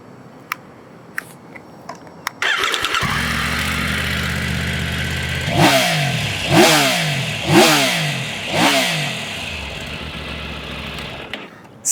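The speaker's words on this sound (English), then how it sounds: "you really feel it when you're revving the engine" A Triumph Tiger 900GT Aragon Edition motorcycle engine starts and idles, then revs hard four times in a row, each rise and fall loud and close.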